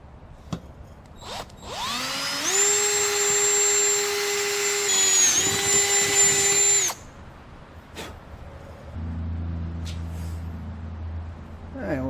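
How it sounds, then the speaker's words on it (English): A power drill whines at a steady high pitch as it bores through a metal bracket on a 1964 Thunderbird during an air conditioning install, running about four seconds with a brief dip, then stopping, followed by clicks and a low hum. "So let me get this drilled out."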